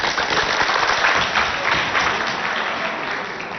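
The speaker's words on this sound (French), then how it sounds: "On applaudit pour lui." A school quiz audience bursts into sustained, dense applause, loud and steady for the whole stretch.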